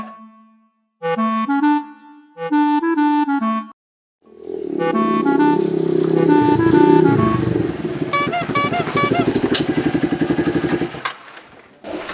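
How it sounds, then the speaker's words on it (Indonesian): A husband's motorcycle pulls up, its engine building to a loud, steady drone with rattling clatter, after a few bursts of tonal music at the start. "Suaranya motor bojoku."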